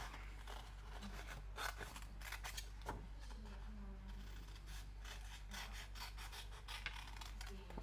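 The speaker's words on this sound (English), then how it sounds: "I'm going to cut this one out here." Scissors cutting out a paper card piece for a handmade card, giving a quiet, steady run of rasping snips through most of the stretch with no talk.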